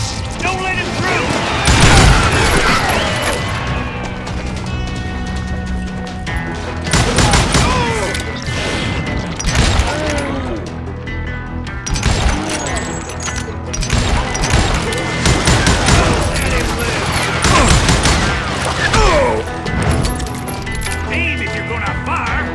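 Gunfire in the Western shooter game Call of Juarez: Gunslinger, with loud bursts of shots, impacts and crashes layered over music and shouted character voices for an extended stretch.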